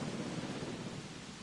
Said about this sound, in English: oh damn, it's raining.